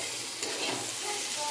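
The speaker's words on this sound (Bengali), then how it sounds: "1 চামচ হলুদের গুঁড়ো, 1 চামচ লাল লঙ্কার গুঁড়ো, আর সামান্য একটু জিরের গুঁড়ো দিয়ে এবার এটাকে ভালো করে কষবো" Turmeric, red chili and cumin powders sauté in a hot pan for a Bengali fish-egg dish, giving a brief, close sizzle of frying with a few stirring scrapes.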